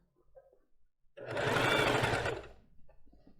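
An industrial sewing machine stitches a lace bra, a loud steady whir that starts abruptly after a quiet second, runs for about a second and a half and then winds down, with soft handling noises around it.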